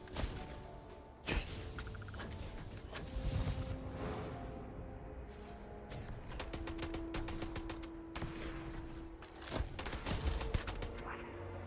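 Gunfire in Starfield on ultra nightmare difficulty: a dense, loud fusillade with sharp broadband shot bursts and rapid rattling volleys, including a fast run of shots near the middle, over mechanical clanks and a steady tonal hum.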